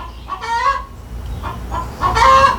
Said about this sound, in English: the rooster will crow after